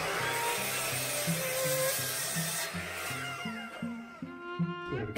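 Rough, steady sawing through a yew log with a droning, rhythmic grind that shifts pitch in steps, ending in a rising whine.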